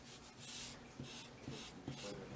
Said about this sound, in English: I'm gonna erase all my pencil lines.